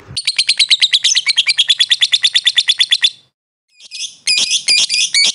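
Lovebirds call loudly and close by. A rapid run of sharp, evenly spaced shrill chirps is followed by a brief pause, then more piercing squawky chirps.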